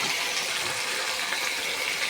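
Water poured from a vessel into a pan of prawn and potato curry, making a steady, continuous rushing splash that stays loud and even throughout, with no talking.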